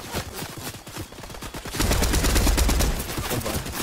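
Rapid automatic gunfire in the Fortnite video game sounds as dense, fast bursts of shots that grow heavier and louder midway. It continues without pause throughout.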